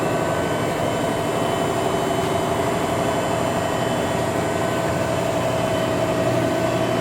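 Hydraulics and spindle of a Cincinnati-Milacron 10" x 31" universal cylindrical grinder run as a steady, even mechanical drone with a faint tonal whine, unchanging and continuous throughout.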